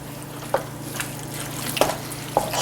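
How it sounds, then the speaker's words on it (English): Juice draining from canned whole kernel corn for taco soup: a soft, steady trickle of liquid with three brief clinks or taps spread through it, fairly close. "Strain the juice out of it too"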